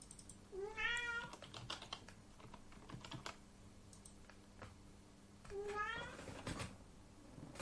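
A cat meows twice a few seconds apart, each a clear rising then falling cry, close to the microphone. Quick computer keyboard typing and clicks fill the gaps between the meows, and no one speaks.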